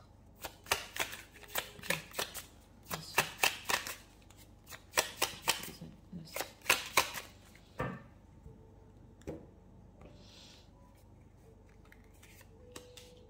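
Tarot cards are shuffled in quick, crisp riffling bursts, several in a row, followed by a few softer isolated taps as cards are set down, close and quiet with no talking.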